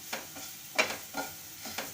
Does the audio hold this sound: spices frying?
yes